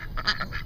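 Backyard ducks quack nearby in a quick run of three or four nasal, honking calls, with no voices over them.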